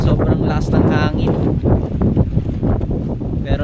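Strong mountain wind buffets a camping tent at a hilltop campsite in Tagaytay, roaring and gusting steadily throughout with rain setting in, while people talk close by.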